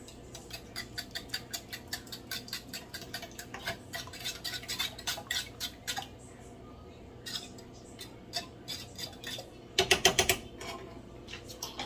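Milk and egg are mixed together in a bowl with quick, rhythmic clinks and taps of a utensil against the sides. The strokes run steadily at a modest volume, with a brief, louder burst of scraping near the end.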